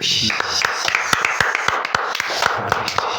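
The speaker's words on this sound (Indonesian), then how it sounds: "Bagus, mau tepuk tangannya bagus." Scattered hand claps from an audience at a sales training seminar, a dozen or so sharp, uneven claps spread over a few seconds with some voices in the background.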